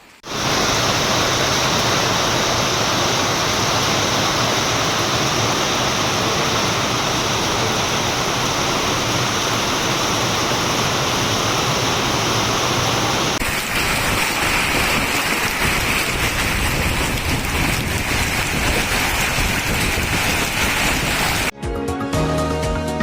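Heavy unseasonal rain pours down in a steady, loud roar of dense hiss that continues without a break, its texture shifting slightly partway through, in Satara–Wai, Maharashtra.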